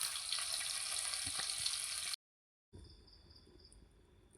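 Food sizzles loudly in a hot pan for about two seconds, a dense steady hiss, then cuts off abruptly, leaving a quieter background.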